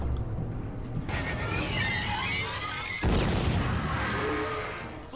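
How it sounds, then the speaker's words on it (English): Fireworks explode in the Starcourt battle scene of Stranger Things: two loud, sudden blasts about two seconds apart, each followed by a roaring, crackling whoosh that fills the scene, with no voices. "the fireworks worked better than I was thinking they would"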